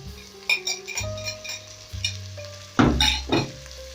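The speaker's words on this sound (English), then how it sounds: "I'll go in with my garlic." Garlic sizzles and fries in a pan for pilau while a utensil stirs it, scraping and clinking against the metal; the crackle swells loudly near the end.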